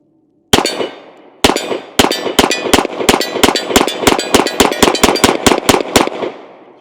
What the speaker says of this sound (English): Let's go ahead and shoot one in double action.